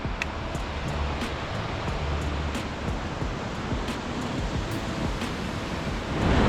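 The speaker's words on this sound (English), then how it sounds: "This is the river." A river rushing through the Khumbu region of Nepal, a steady broadband roar of flowing water that stays loud and even throughout, with no voices.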